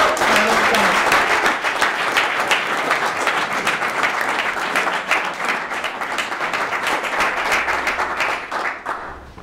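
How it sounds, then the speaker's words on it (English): An audience at a startup event breaks into warm, dense applause to welcome a speaker, a loud wash of many clapping hands that holds steady and then thins out at the end. "And now I would like you to welcome Thomas with a very warm applause."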